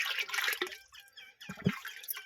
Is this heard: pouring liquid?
yes